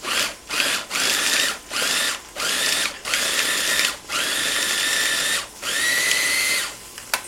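A spice grinder pulses toasted cumin and fennel seeds in about nine short, loud whirring bursts with brief gaps between them, the later bursts running longer.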